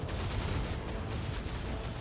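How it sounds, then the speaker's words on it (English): Dense, continuous gunfire and battle noise from the Warhammer 40,000 video game Rogue Trader, a steady loud wash of overlapping shots heard through a transmitting box, with no voices. "The box transmits the sounds of gunfire and death screams."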